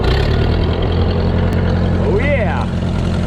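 A tractor engine idles loudly and steadily close by, a continuous low rumble with a brief voice cutting in partway through.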